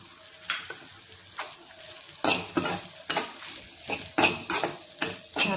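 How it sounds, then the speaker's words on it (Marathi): Crushed peanuts stir-fried into sabudana khichdi in a hot pan, a continuous sizzle broken by several scraping strokes of a spoon against the pan, close and without talk. "हे जे कूट बनवलेलं आहे ते ह्याच्यामध्येच घालून घ्यायचे आणि परतून घ्यायचे."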